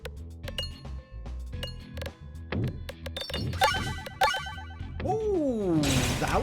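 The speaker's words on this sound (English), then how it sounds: "that was some big explosions" Chiming, clanking impacts and bouncing pops build into a rising, sweeping burst of explosion effects in the Peglin video game, with music-like tones throughout and no talking.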